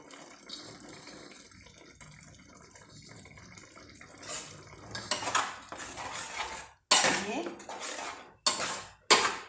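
Ginger spice mix being spread into ripe mango chutney in a pan: quiet scraping at first, then a series of loud, sharp clinks and scrapes of a utensil against the pan, coming in bursts toward the end.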